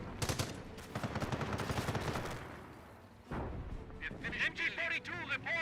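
Automatic MG42 machine-gun fire rattles in the Company of Heroes video game, rapid bursts mixed with other battlefield gunfire and explosions, with a caster talking over the action throughout.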